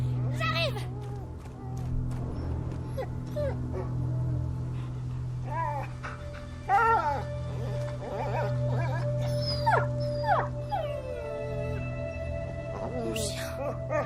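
Dog Lion whimpering in A Plague Tale: Innocence, thin high whines and yelps over a steady low drone, with a man calling out in French over the top.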